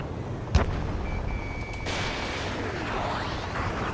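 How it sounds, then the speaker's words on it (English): Gunfire in the video game Ace Combat 7 amid a city under martial law: a sharp close shot, then scattered distant bursts and a swooping jet-like whoosh over a low rumbling background. "Gunfire and the roar of jets echoing through the streets"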